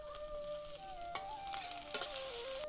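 Mustard seeds, cumin, chopped garlic and onion sizzle steadily in hot oil, a continuous close crackling fry with occasional pops and stirring, no voices.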